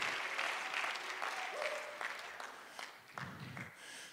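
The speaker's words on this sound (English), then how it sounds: "Let's give him a hand clap of praise" A church congregation claps together in praise, a dense, steady patter of hand clapping filling the room and slowly thinning toward the end, with faint voices underneath.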